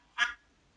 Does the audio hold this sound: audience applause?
no